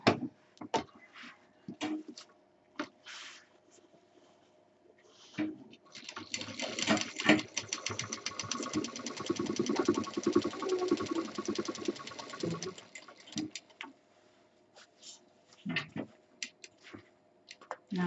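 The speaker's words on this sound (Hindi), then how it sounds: "यहाँ पे डबल सिलाई चला देंगे।" A sewing machine runs a double line of stitching on a DIY mixer-grinder cover, a fast, even mechanical chatter lasting several seconds, framed by quieter handling sounds before and after.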